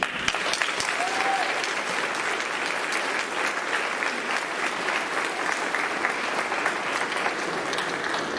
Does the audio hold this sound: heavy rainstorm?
no